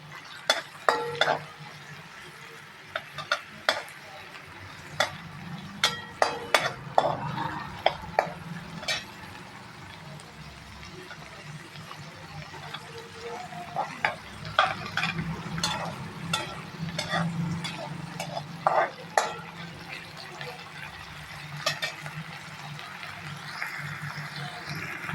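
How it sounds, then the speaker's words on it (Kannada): Tomatoes and onions frying in a pan for a ridge gourd curry, a steady low sizzle broken by frequent scraping and clinking stirs of a metal spoon, close and moderately loud throughout. "ಇದನ್ನೆಲ್ಲ ಚೆಂದಾಗಿ ಫ್ರೈ ಮಾಡ್ಬೇಕು"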